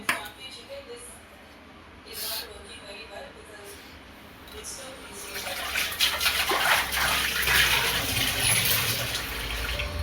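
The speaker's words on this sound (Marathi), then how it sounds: "आता मी ना हे पाणी आपल्या चाळणीमध्ये काढून घेणार आहे" Hot cooking water from boiled cauliflower is tipped into a kitchen colander. It starts quiet, then grows into a steady, splashing gush of draining water in the second half, with a voice faintly in the background.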